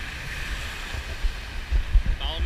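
Ocean surf and wind at South Myrtle Beach, a steady wash of waves with low rumbling gusts and a few louder surges near the end.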